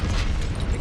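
A Confringo spell explodes in the Hogwarts Legacy video game, a short, loud, close burst with a heavy, noisy boom that fills the whole moment.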